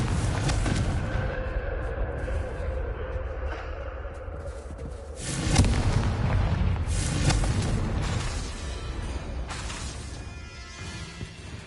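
A Confringo spell blasts in the Hogwarts Legacy video game, a heavy booming explosion that swells over continuous game noise, with further rumbling bursts following, and no talking.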